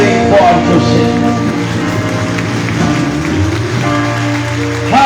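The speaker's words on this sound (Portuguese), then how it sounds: "Aplauda bem forte o Senhor." A church congregation claps loudly together during a evening worship service, a dense, sustained burst of applause with music and voices mixed beneath.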